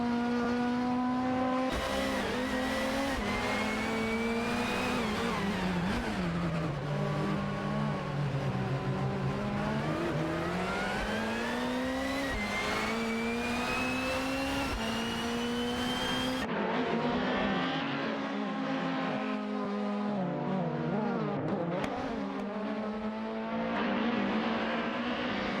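Racing car engines roar continuously in an AI racing video game, several cars revving and shifting with rising and falling pitch, with occasional tire squeal, loud and sustained with no talk.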